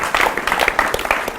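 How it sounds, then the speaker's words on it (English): An audience at a retreat gathering claps in brief, scattered applause, a quick burst of overlapping handclaps heard from within the room. "I think that deserves a round of applause"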